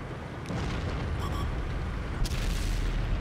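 A tank cannon fires in World of Tanks on Xbox One, a loud broadband boom with a sharp onset, followed by another blast with a rumbling low tail and steady battle noise.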